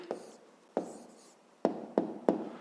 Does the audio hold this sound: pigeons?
no